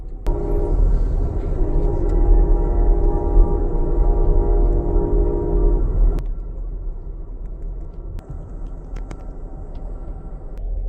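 Steady low rumble and road-like drone fill the inside of an Amtrak Empire Builder passenger car, loud and continuous, easing slightly partway through, with occasional faint clicks and knocks.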